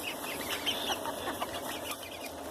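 Olandsk Dwarf hens make soft, scattered clucks and chirps close by, with light background rustle and no one talking.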